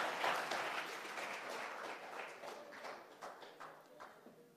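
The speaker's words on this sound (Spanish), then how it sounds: "denle un aplauso al señor" A church audience applauds a man on request, a dense, steady wash of clapping that fills the room and slowly thins toward the end, with no voices over it.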